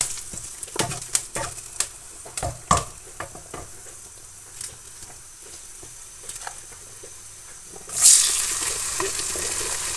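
Spices hit hot oil for tempering moong dal, making a steady close sizzle broken by sharp scraping and clinking from stirring, then a louder hiss near the end.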